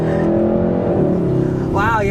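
A 2022 Hyundai Sonata N Line engine drones loudly and steadily from inside the cabin as it runs through paddle-shifted gears, with a rising tonal whine near the end.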